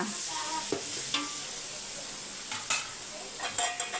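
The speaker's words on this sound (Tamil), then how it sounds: "வெங்காயம் வதங்கட்டும் இந்த பக்கமும் வெங்காயம் வதங்கணும்" Onions sauté in a pan for mutton biryani while being stirred, a soft sizzle under a few scraping and clinking strokes of the spoon near the end.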